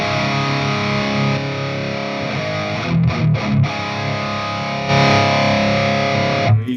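A distorted electric guitar plays through an amp fed into a Palmer Supreme Soaker attenuator, with loud sustained chords, a few short choppy stabs in the middle and a held chord at the end, with no talking.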